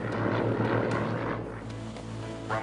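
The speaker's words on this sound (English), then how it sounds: "On this day, conditions are clear, and Sandy has the plane airborne in no time." A small propeller airplane takes off in clear weather, its engine droning steadily with a low, even hum and a faint airy wash over a couple of seconds.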